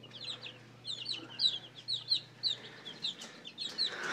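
Chickens cluck in a steady run of short, bright calls over a low background hum, with a white chicken and a black one chasing each other while hunting moths.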